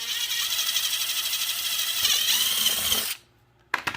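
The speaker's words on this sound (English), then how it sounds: "So you want to kind of pull it down a little when you drill this hole" A power drill whines steadily at high pitch for about three seconds drilling a rivet hole for a window sweep on a Chevy S-series pickup, cuts off, then gives a short burst after a pause.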